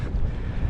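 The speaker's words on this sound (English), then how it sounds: "and it's windy" Wind buffets the microphone in a brief, loud low rumble on an exposed upland hiking route between Shap and Kirkby Stephen.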